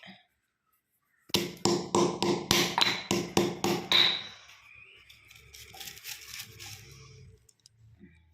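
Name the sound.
pounding fruit to break it and separate the seeds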